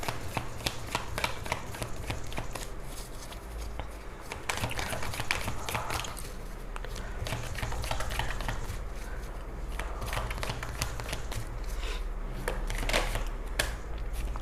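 An Osho Zen tarot deck shuffled by hand, close to the microphone: continuous rustling, sliding and flicking of cards over a steady low background hum, with no speech.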